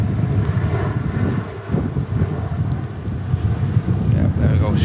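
An airliner takes off from the runway at Manchester Airport in stormy weather, a loud, steady broadband engine roar with gusting wind buffeting the microphone throughout.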